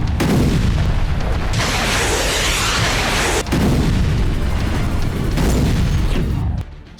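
Artillery and multiple rocket launcher fire in war-torn Kherson, Ukraine, roars as dense, heavy booms and rumbling blasts that stay loud and nearly continuous, with one brief dip midway.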